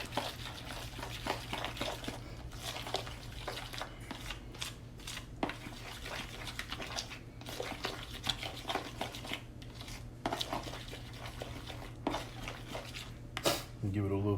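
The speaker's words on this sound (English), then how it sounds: "Then I'm gonna just mix this up." Seasoning with cracked peppercorn stirred in a bowl for smoked brisket, a steady run of light scraping and clinking close by under a low hum, without a break.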